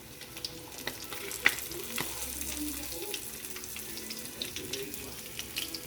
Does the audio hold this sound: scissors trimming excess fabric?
no